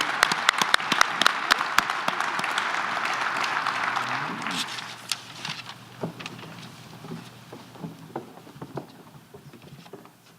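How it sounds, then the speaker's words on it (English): Audience applause at a farm bureau awards luncheon for young agricultural professional winners: dense, steady clapping at first, thinning to scattered claps and fading away over the last several seconds. "Let's give all our winners one more round of applause."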